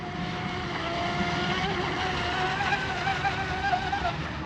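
A J&R Marine H26 RC hydroplane boat runs at part throttle on the water, its motor giving a steady, wavering whine at moderate distance.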